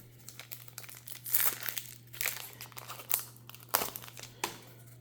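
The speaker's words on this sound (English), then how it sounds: "So on that pull tab, then I pulled it down and it got near the end, it caught up at the bottom." The pull tab on a Final Fantasy Play Box is drawn down through the cardboard, giving close, crinkly tearing in several short bursts with brief pauses between them.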